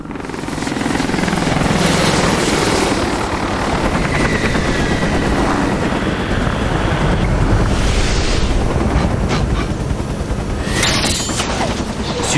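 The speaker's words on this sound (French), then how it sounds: "On dirait un hélico." A helicopter in the Resident Evil Operation Raccoon City video game roars loud and continuous, its rotor thump and rushing wind filling the whole stretch with no pause.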